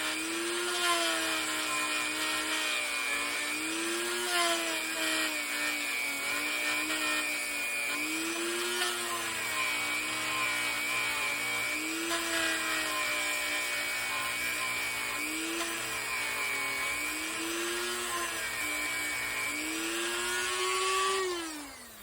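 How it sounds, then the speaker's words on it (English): A high-pitched drill whines steadily as it grinds a 440 Mopar V8 cylinder head port with a carbide bit, its pitch wavering slightly with the load, close and continuous. "I wasn't grinding on the fastest drill setting."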